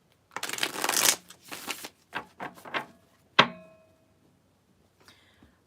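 Tarot cards riffle and shuffle in several quick bursts, close and crisp, followed by a single sharp tap of the deck and brief quiet.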